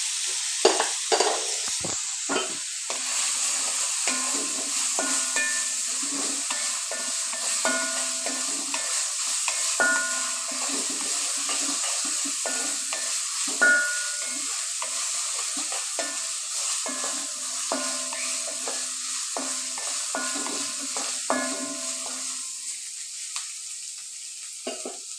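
Green chillies and curry leaves fry in hot oil for a chicken curry, giving a steady, fairly quiet sizzle broken by the occasional scrape of stirring.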